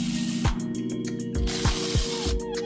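Ratchet with a 10mm socket clicking while loosening a battery terminal on a 2016-2022 BMW X1, several short bursts of quick metallic pawl clicks with brief pauses between strokes, close and moderately quiet.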